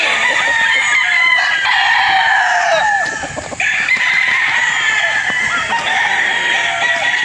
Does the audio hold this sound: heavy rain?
no